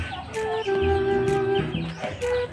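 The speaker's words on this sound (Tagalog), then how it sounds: "Meron pa mga manok sa ilalim." Hens cluck in short, rising bursts on a clean pig farm where chickens and chicks are kept too. Several close calls overlap with little background noise.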